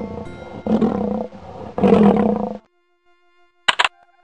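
Two deep, drawn-out lion roars rumble loudly one after another in the MS-DOS game Kids Zoo: A Baby Animal Adventure, then a brief electronic chime sounds after a pause.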